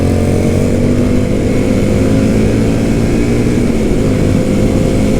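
An Indian FTR 1200 motorcycle rides a country road, its engine a steady, loud drone with continuous low rumble and wind noise, unbroken and without talk.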